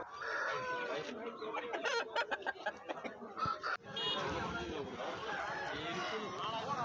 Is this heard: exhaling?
no